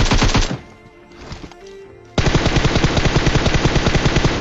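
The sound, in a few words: gunfire in PUBG video game on Erangel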